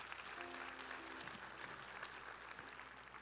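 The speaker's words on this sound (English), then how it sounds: "would you give him a hand clap this morning?" A church congregation claps together at a morning service, a dense, steady wash of hand claps held at an even level throughout, with a faint tonal hum underneath.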